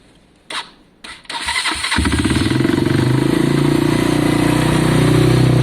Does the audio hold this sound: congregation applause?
no